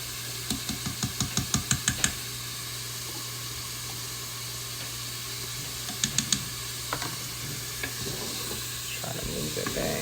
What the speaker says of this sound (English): So I'm about to add me some garlic,